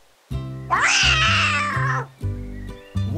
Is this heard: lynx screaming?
yes